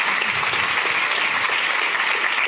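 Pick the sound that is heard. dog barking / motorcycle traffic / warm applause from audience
warm applause from audience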